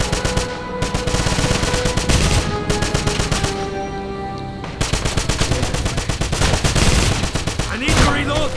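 Dense, rapid gunfire from the 2009 video game Wolfenstein, loud bursts of automatic weapons firing almost continuously with brief pauses, a battle soundscape with no speech over it.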